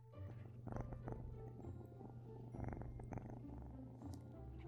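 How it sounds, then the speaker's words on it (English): A kitten purrs softly and steadily up close, a low continuous rumble with a few faint rustles and clicks over it. "My new kitten wants to be part of the video."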